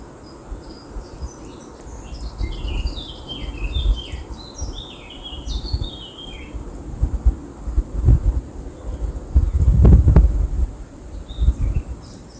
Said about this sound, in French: À mon réveil, la nature est paisible et j'entends juste le ramage de quelques oiseaux.